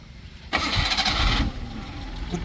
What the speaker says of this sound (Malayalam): അപ്പം നമുക്ക് വണ്ടി ഒന്ന് സ്റ്റാർട്ട് ചെയ്യാം